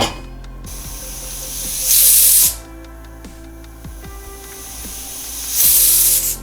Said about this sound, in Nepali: अब आफ्नो कुकरमा कति सिटीमा पाक्छ दाल तरकारीहरू